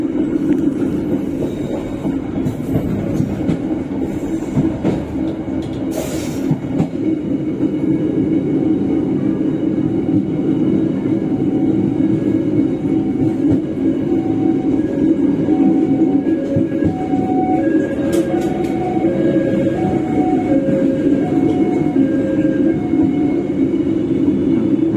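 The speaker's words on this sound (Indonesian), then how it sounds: "Nah, makanya kita abadikan kereta ini saat masih switch over ya." A passenger train rolls steadily over switch points, its loud continuous rumble and wheel clatter running without a break, with a faint brief squeal now and then and no voices.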